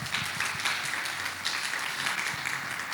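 A church congregation breaks into applause during a Spanish-language sermon, a dense, steady wash of clapping across the whole stretch, moderately loud and without pause.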